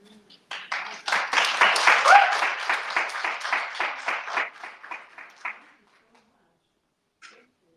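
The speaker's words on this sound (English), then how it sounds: "Another round of applause." An audience breaks into applause after an Arabic poetry reading at a freethinking society event, a dense burst of many hands clapping that swells, holds for several seconds, thins out and stops, followed by a brief final clap.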